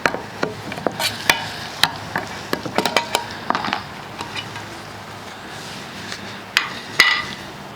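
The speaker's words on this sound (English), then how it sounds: "I'm going to go ahead and stir that up just to make sure that the oil is thoroughly mixed in" A can of oil primer paint is stirred to mix in thinner, giving irregular sharp knocks and taps of the stirrer against the can over a faint wet swishing, heard close up.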